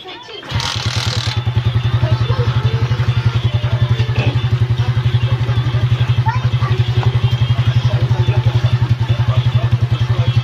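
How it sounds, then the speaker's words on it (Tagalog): A motorcycle engine running after a cylinder head and carburetor replacement catches after a brief start, then settles into a loud, steady, fast-pulsing idle close by that continues throughout. "Paandarin na lang natin"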